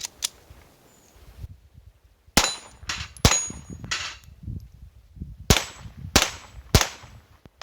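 A .22 LR Mark III pistol firing a string of sharp, loud shots, six cracks spaced irregularly about a second apart, with the first two separated by a quiet pause and faint clinks and handling noise between them.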